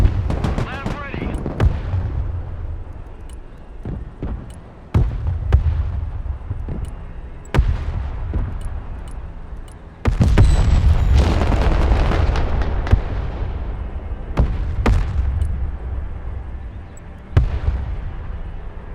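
Gunfire and artillery rumble across a battlefield in the video game Broken Arrow, with repeated heavy booms and sharp shot bursts at irregular intervals, loud and near, and radio voices calling out between blasts.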